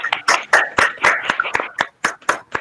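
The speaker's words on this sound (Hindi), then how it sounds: "तालियों की गड़गड़ाहट के साथ हमारे सभी प्रतिभागियों का उत्साहवर्धन करें।" Applause for the participants of a Hindi poetry recitation competition: a small audience claps in distinct, fairly steady bursts, close and clear, with no talking over it.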